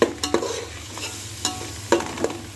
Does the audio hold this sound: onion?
yes